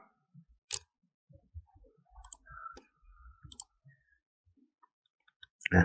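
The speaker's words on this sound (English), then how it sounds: "You click and drag." A computer mouse gives a few sparse, close, quiet clicks separated by silence, with small soft handling noises in between.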